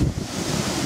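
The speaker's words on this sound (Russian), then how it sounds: "Ветер ужасный." Strong wind roaring and buffeting the microphone in a steady, loud rush, with no voices.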